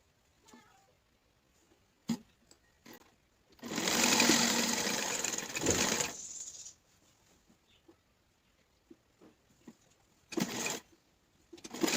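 Sewing machine stitching the shoulder seams of an open shirt with a coat collar, one sustained run of about two seconds between brief starts and stops, with quiet handling noises around it.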